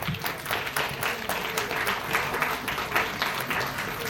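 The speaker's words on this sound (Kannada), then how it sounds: "ಚಪ್ಪಾಳೆ." Applause from an audience at a press club award ceremony honouring doctors, a sustained burst of many hands clapping together at moderate distance, steady throughout.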